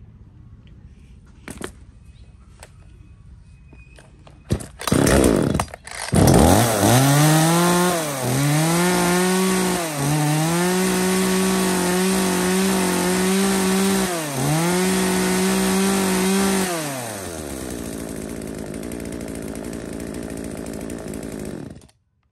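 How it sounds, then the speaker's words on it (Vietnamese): Several used chainsaws of makes such as Stihl, Echo Kioritz, Hitachi and Komatsu are pull-started in a shop, then one engine roars loudly and steadily, revving up and down for about ten seconds before cutting out. "cửa hàng chúng em là đã test nổ hết một loạt là những dòng máy cưa"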